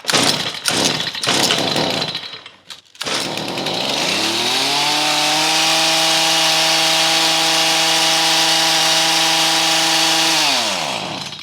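A Hipa chainsaw is pulled over with a few sharp rattling cranks, catches, and revs up into a loud, steady high whine that holds for several seconds before winding down.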